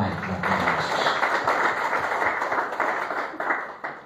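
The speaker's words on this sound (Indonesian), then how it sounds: "Tepuk tangan yang terbaik buat Yesus" Congregation applause for Jesus at an Indonesian revival church service: dense, sustained clapping from a crowd, steady and fairly loud throughout with slight swells.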